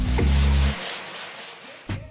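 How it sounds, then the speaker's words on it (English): Sandpaper rubbed over plastic sheets to flatten sharp corners, a loud close rasping burst that stops, then a quieter pause and a brief final scrape. "Using sandpaper I am rubbing all the plastic sheets so that all the sharp corners are flat."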